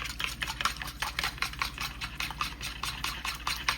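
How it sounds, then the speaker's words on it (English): A fork whisks a slurry in a bowl, giving rapid, even clicking taps in a fast continuous rhythm, close but fairly soft. "Whisk this all up real good"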